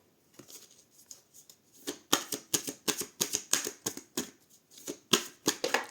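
Tarot cards shuffled and drawn by hand in a steady run of quick, crisp riffling flicks, close and fairly loud, with no talk over them.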